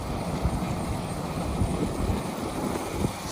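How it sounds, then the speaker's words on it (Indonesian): Vehicle engine, its motor already warm, given throttle on an evening ride through a home village; a steady, loud low rumble fills the whole stretch with slight surges, no voices over it. "panas udah mesinnya nih. Kita gas dulu guys."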